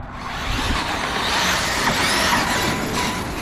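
Traxxas X-Maxx RC monster truck fitted with a Hobbywing Max 5 system launching off, a steady loud whine and whir of motor and drivetrain with broadband tyre and gravel noise, close and continuous throughout.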